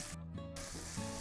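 Sliced shallots go into a hot pan for a Kerala fish curry and give a brief, soft sizzle close by.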